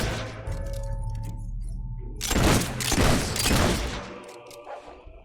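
Gunfire in Fable 3 at the Traitor's Keep, several loud bursts of shots and booms in quick succession, with faint music before them.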